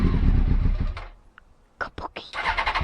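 The starter motor on a Honda CBR900RR Fireblade cranks in a loud, close whir for about a second, then stops. Short bursts follow, with voices nearby.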